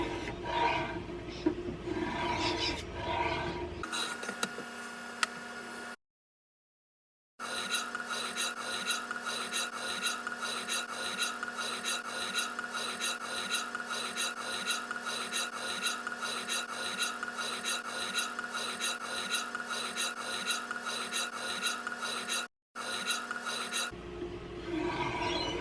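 A knife blade is drawn repeatedly across a Hapstone premium CBN stone after an 80-grit stage, giving a close, steady rasping scrape in a continuous rhythm, with two brief silent gaps.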